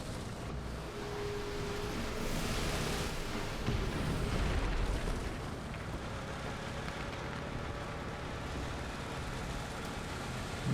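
A bomb explodes in the tank battle game War Thunder, a deep rumbling blast swelling midway through a continuous gritty roar of battlefield noise, with no talking.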